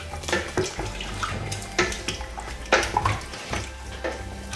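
Oxtail stew with added water is stirred in a cooking pot, giving irregular sloshing and scraping strokes of liquid and utensil, close and moderately loud, with no talking.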